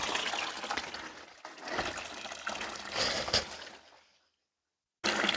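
Spring water runs and splashes steadily at close range, broad and bright with a few surges, then cuts to near silence before a sudden return of the flow.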